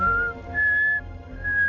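Thin, high whistling notes in short separate phrases, three held tones with brief gaps between, clear and fairly close over a low background hum, with no talk.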